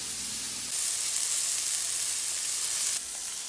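Burger patties sizzle steadily in a hot pan for cheeseburgers, a loud continuous frying hiss that swells briefly in the middle, with no talking.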